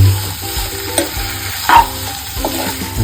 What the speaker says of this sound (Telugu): ధనియాల పొడి వేసుకున్నాక కొంచెం ఇట్లా తిప్పుకొని ఫ్రై చేసుకున్నాక మూత పెట్టేసుకున్నాం